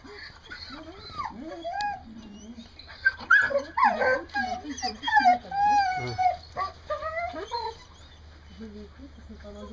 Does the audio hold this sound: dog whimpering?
yes